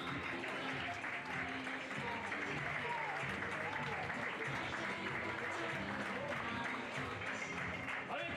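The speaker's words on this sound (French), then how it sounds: "je vous demanderai de l'applaudir bien fort" Steady applause from an audience at an equestrian dressage award ceremony for a French championship, sustained and fairly even throughout, with voices and music faintly mixed in.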